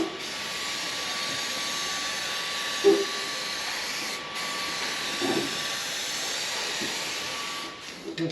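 Steady aerosol spray can hiss as paint is applied slowly and closely to fiberglass side flares in a van workshop, a continuous broadband spray lasting the whole stretch with a few faint knocks and brief pauses.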